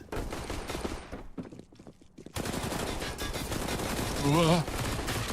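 Rapid gunfire from a CS:GO professional match between Liquid and Virtus.pro, with dense bursts of shots filling most of the clip under energetic commentary.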